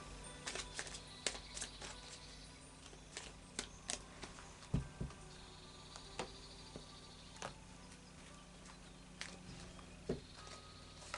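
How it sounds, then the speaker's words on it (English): Tarot cards being shuffled close by in quiet bursts of crisp riffles and soft taps, scattered irregularly over a hushed background. "a final shuffle of the Lightseer's Tarot"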